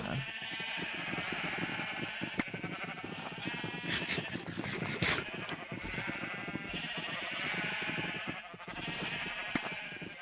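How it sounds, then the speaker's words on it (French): Repeated sheep bleats from a flock in a survival video game, overlapping and fairly close, continuing steadily over a busy game soundscape with no talking. "Ils me cassent les couilles, ces moutons."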